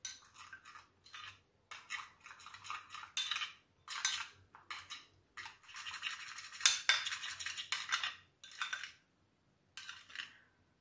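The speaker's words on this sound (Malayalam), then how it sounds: "കടലമാവ് ഒന്ന് ഇട്ട് കൊടുക്കാം മിക്സ് ചെയ്ത് നോക്കട്ടെ കറക്റ്റ് ആണോ എന്ന്" Gram flour face pack being stirred in a small bowl, a run of soft scraping and clinking strokes in irregular bursts with short pauses, close and fairly quiet, with no talking.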